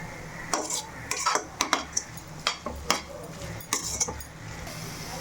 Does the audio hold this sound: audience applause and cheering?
no